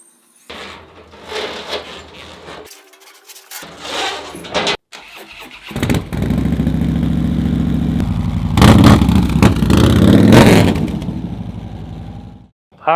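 A motorcycle engine starts after being reprogrammed. A cranking attempt is followed by the engine catching and settling into a loud, steady idle close by, then rising in a brief rev before cutting off.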